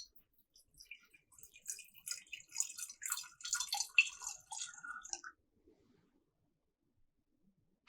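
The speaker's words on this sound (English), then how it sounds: "Let's pour some water." Water poured into a flat-bottom glass flask for a classroom science demonstration: a few seconds of bright, trickling splashes that then stop, leaving near silence.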